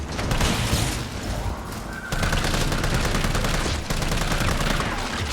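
Sustained gunfire against zombies in the Resident Evil 3 video game, loud continuous automatic bursts with brief breaks, layered with game noise and impacts.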